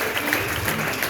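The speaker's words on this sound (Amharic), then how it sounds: "አጨብጭቡ ለጌታ" Congregation clapping during a gospel church service in Hadero: a brief, dense burst of many hands clapping close and loud, with some indistinct crowd voices underneath.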